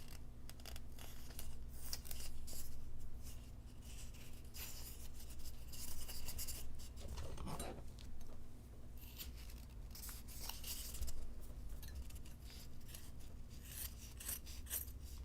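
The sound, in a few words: dull scissors cutting fabric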